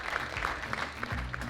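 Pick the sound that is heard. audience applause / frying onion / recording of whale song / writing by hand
audience applause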